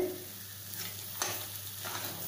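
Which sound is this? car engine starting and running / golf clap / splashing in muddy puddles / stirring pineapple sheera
stirring pineapple sheera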